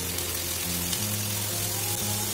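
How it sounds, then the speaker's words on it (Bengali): Onion frying in a pan with ginger and garlic paste added, a steady, close sizzle with crackling spatter running unbroken throughout. "পেঁয়াজটা ফ্রাই হয়ে গেছে, এবার এর মধ্যে একটুখানি আদা বাটা দিচ্ছি"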